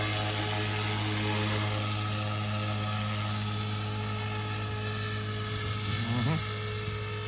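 A Goosky RS4 RC helicopter hovers with a steady, high rotor and motor whine, holding constant over a quiet background while someone talks over it.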